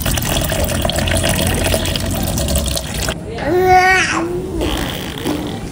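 Squid being washed by hand in water, with splashing and trickling at close range, and a voice chatters over part of it.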